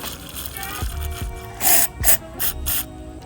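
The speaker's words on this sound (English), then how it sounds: "So what you got to do is just spray it through." Carburetor cleaner sprayed through carburetor jets on a Brute Force ATV engine gives several short hissing bursts, close and fairly loud, after a few faint handling clicks.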